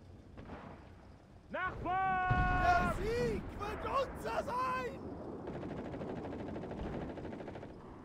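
Gunfire from a tank in an immersive West German Army battle on a Berlin map, with bursts of shots and booms mixed among other sharp game sounds and whining tones.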